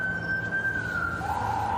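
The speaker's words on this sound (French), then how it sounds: "Alors que les sirènes retentissent encore dans les rues" An emergency vehicle siren wails through city streets during unrest, a steady high tone sliding down in pitch, fairly distant over a low background rumble.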